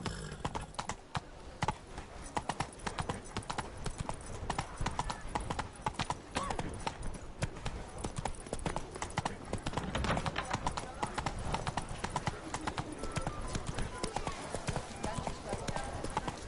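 Horse hooves clip-clopping at a steady gallop in the video game Witcher 3, a continuous rapid rhythm that runs under intermittent talking and game sounds.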